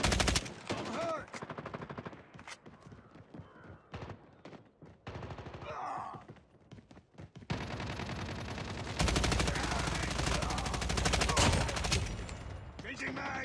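Video game gunfire: bursts of rapid machine gun shots alternate with single cracks, turning into long sustained loud fire in the second half, with voices shouting between the volleys.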